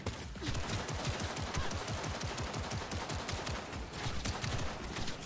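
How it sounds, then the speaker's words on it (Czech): Rapid, continuous rocket launcher fire in Cyberpunk 2077, dense bursts of blasts and impacts, loud and busy throughout with no talking. "To střílí ty rakety."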